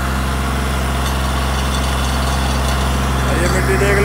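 A Sonalika DI 35 tractor engine runs in under full load on a dirt track, a loud, steady, dense rumble that holds unbroken throughout.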